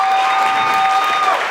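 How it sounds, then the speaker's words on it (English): Audience applause at a club house dance anniversary celebration, a steady dense wash of clapping held at even loudness for a moment, with a sustained tone running beneath it. "Please give them a big round of applause."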